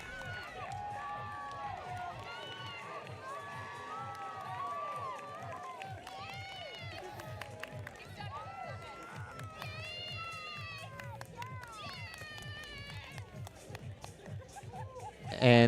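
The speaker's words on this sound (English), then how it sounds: "the crowd's absolutely cheering these guys on." Crowd at an athletics race near the finish of a 5000 m night meet, cheering the runners with lively shouts, whistles and rising whoops, mixed with steady commentary and background chatter.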